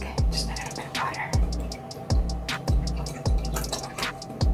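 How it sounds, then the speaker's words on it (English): Water goes into a denture cleaner in a series of evenly spaced, close, splashy drips and pours, roughly one every second, with a faint background hiss. "We're gonna add some water."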